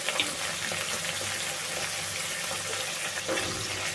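Capsicum and onion fry with tomato, green chilli and soy sauces for a Puri-style soyabean chilli, making a continuous, fairly loud sizzle with a few light stirring clicks and no speech.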